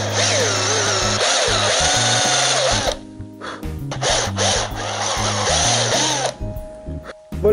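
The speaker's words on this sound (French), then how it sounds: "donc là j'ai percé tous mes trous" Power drill boring holes into the wooden bars of a bed frame. Two long, loud whirring runs are split by a short pause near the middle, with rubbing and grinding as the bit bites through the wood.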